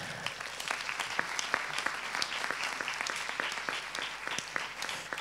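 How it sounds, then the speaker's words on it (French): A conference audience in a hall applauds the speakers after a session on the value of evidence, dense, even clapping with sharp individual claps standing out throughout. "On peut peut-être les applaudir."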